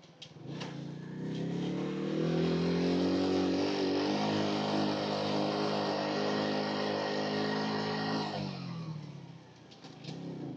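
A motorcycle engine drones past at close range, rising to a steady roar and then falling away, with no one talking.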